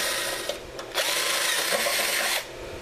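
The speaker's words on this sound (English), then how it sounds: "Use an 1/8 inch drill bit and drill a pilot hole right in the middle of the" A power drill with an 1/8 inch bit whirs continuously for a couple of seconds, drilling a pilot hole into a metal spot weld, close and loud, then winds down.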